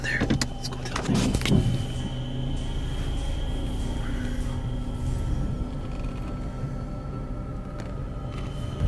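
A car drives in the Shaun the Sheep.exe horror video game, giving a steady, close engine hum with a few creaks and mechanical clunks near the start, and no talking.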